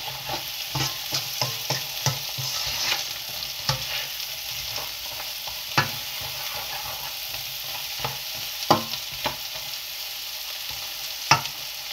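Kofta fried rice ingredients stir-fry in a pan under a steady, moderate sizzle, punctuated by rhythmic spatula scrapes and taps throughout, with a few sharper clanks.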